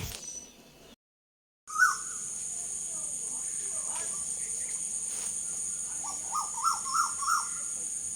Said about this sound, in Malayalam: അന്നേരം ഒരുപാട് കിളികൾ ഇങ്ങനെ വന്നിരിക്കും